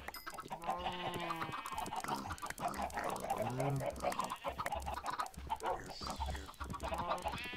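Chickens clucking in the Minecraft video game, with repeated short bird calls in an uneven rhythm, mixed with other game sounds and a voice talking underneath.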